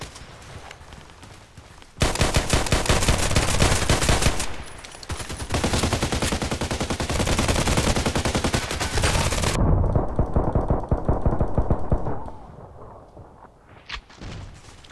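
Rapid automatic MP5K fire from the shooter game Contract Wars, loud sustained bursts from about two to twelve seconds with a brief pause mid-stream, then a quieter tail with a few scattered sounds.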